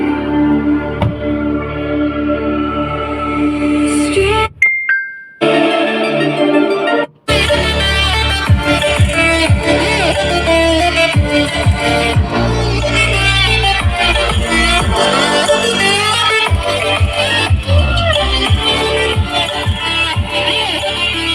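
Loud music plays through the factory speakers inside a closed Hyundai Grand i10 Nios Sportz, filling the cabin; a brief dropout near the start breaks the otherwise continuous, dense playback, with no talking over it.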